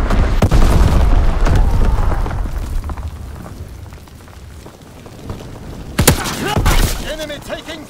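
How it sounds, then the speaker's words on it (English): Heavy explosions of enemy mortar fire in the Call of Duty WWII video game, rumbling booms through the first seconds, then a sharp nearby blast, with a voice talking over the battle noise. "Enemy mortar fire incoming."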